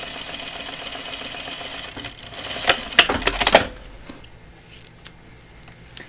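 A sewing machine stitching binding onto a curved pocket edge with a quarter-inch seam, a steady mechanical whir that ends in a short burst of loud rapid clatter, then fades to quiet handling.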